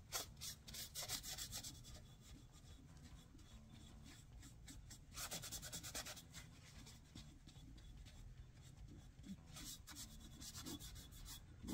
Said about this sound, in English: And the alcohol you gotta rub a little harder